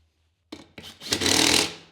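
An impact-style power tool torques down the lug nuts on a wheel fitted with a 40-inch BF Goodrich tire. A couple of short knocks come first, then a loud, harsh burst of about a second that fades out.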